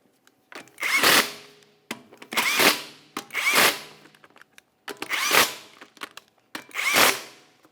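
A power tool snugs the wheel lug nuts on a Jeep Renegade in a crisscross pattern: five short, close whirring bursts, each rising and then stopping, with brief gaps between them.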